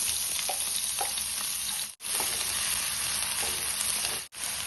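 Chopped garlic and onion fry in hot oil for momos, giving a loud, steady sizzle that continues with only two very brief breaks.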